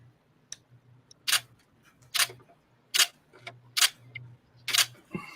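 A part is rocked back and forth with pliers until it snaps off. About half a dozen sharp, close metallic clicks come at roughly regular intervals over a low hum.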